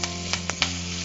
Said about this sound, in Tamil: இதே எண்ணெயில் கடுகு போடலாம்.